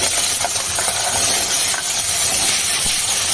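Chopped carrots, peas, capsicum and pointed gourd tipped into a hot kadai with cumin seeds and chilli, giving a steady, close, dense sizzling hiss throughout with no voices.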